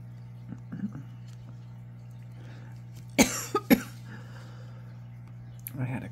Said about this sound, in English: coughing fit, I apologize.